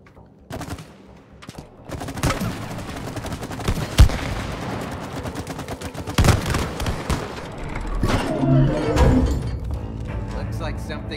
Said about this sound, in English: And then we explode the latches.